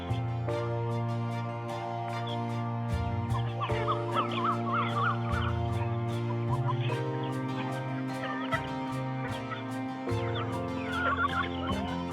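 Free-ranging chickens cluck and chatter steadily outdoors while pecking at grass, with frequent sharp pecking taps and occasional higher calls over a continuous background hum.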